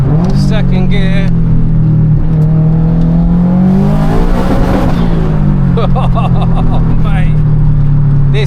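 A 500bhp Subaru estate with anti-lag accelerates hard through the gears, its loud close engine droning and rising with popping and crackling bursts, while a voice talks over it.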